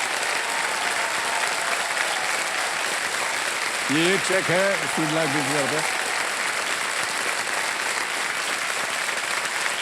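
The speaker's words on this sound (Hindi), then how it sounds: "ताली बजाएं उनके लिए।" A studio audience on a televised quiz show claps in a steady, even wash of applause that runs the whole time, while a host speaks over it and a brief musical fanfare rings out midway.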